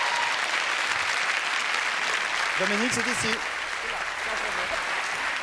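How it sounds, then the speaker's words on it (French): Loud studio audience applause at a French television variety show, a steady dense roar throughout, with a voice briefly speaking over it midway. "Applaudissements, mesdames, messieurs, les voilà."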